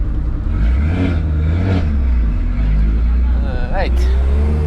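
A powerful car pulls away at the Nürburgring, its engine droning loudly and steadily before revving up with a rising whine near the end, while a voice talks faintly underneath.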